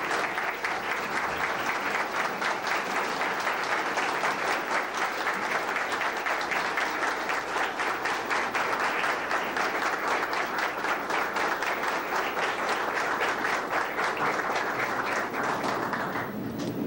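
A large crowd gives sustained, dense applause welcoming Johnny Ventura at a tribute event in La Romana, steady and loud for the whole stretch with no voices over it.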